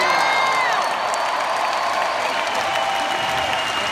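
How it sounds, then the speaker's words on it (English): A large audience at a motivational seminar cheers and applauds loudly, a steady roar of clapping and whooping lasting throughout. "So thank you for the cheering for that"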